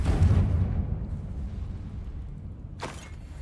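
A Confringo spell explodes in Hogwarts Legacy, giving a deep rumbling boom at the start that fades into a low roar, followed by a sharp burst near the end.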